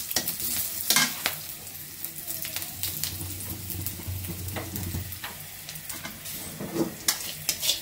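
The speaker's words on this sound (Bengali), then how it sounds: "পেঁয়াজ আর জিরা দিয়ে ভাজনা উঠে নিচ্ছি।" Onion and cumin sizzle and fry in a pan, a steady close crackle with scraping stirs of a spatula throughout, no talking.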